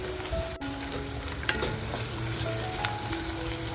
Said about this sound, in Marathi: आपण जी लसूण ठेचून घेतली आहे ती लसूण सुद्धा कांद्याबरोबरच टाकून छान अशी फ्राय करून घेते